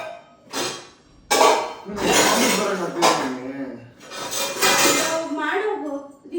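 Metal pots, pans and dishes are stacked in a home kitchen, giving repeated bursts of loud, close clanking and clinking with short pauses between handlings.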